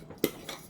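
A spoon clinks once against a bowl while black pepper and garlic powder are mixed together, a single short faint tap followed by a softer scrape.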